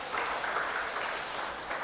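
A church congregation claps together after a prayer, a soft steady patter of applause from a crowd, moderately distant.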